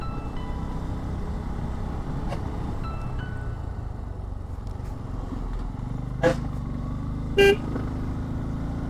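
A lorry approaches on a hill road amid steady traffic and engine rumble, giving two short honks near the end, the second louder and slightly longer.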